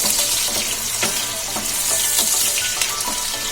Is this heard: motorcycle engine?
no